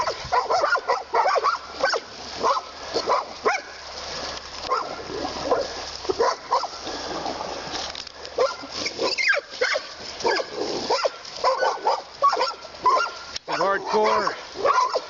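Dogs bark and yip repeatedly at a wounded coyote on a riverbank, an agitated, overlapping flurry of calls with splashing, while people talk throughout.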